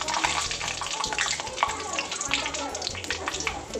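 Mustard seeds pop and splutter in hot oil in a kadai, a crackling sizzle with sharp scattered pops, heard under a person talking.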